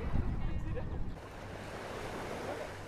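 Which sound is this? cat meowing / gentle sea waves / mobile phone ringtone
gentle sea waves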